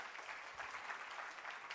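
A live conference audience bursts into steady applause with some cheering, a dense wash of clapping that holds at an even level for under two seconds, with no speech.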